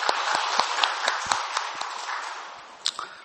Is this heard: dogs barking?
no